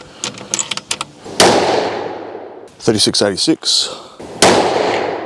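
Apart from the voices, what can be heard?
rifle gunshots while testing a Discoveropt scope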